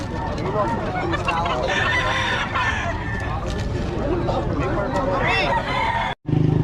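Native chickens cluck and a rooster crows among the busy hubbub of a Filipino market, with vendors and buyers talking over the birds close by.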